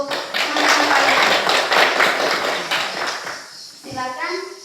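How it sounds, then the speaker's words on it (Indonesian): A classroom of students applauds a student group, a dense burst of clapping that fades after a few seconds as a voice starts speaking. "tepuk tangan dulu untuk teman-teman kalian"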